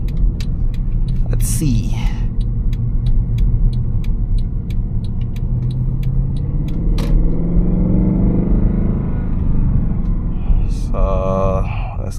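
A Mercedes-Benz C63 AMG W204 with a 460 hp engine and 7-speed transmission idles with a deep, steady rumble heard from inside the car. Clicks and brief mechanical ticks sit over it, and a voice speaks briefly.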